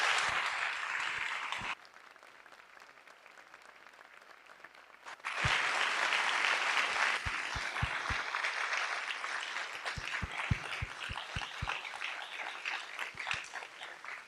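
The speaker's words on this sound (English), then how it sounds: "Round of applause for the class of 2033." A crowd at a fifth grade graduation for the class of 2033 at Westminster bursts into sustained applause, a dense wash of clapping that dips briefly, then swells again, with scattered louder claps near by.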